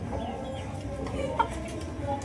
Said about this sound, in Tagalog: Tumitilaok na yata to. Parang tumitilaok na.